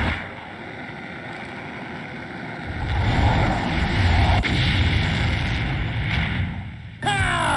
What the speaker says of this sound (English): Okay, the fireworks are in place.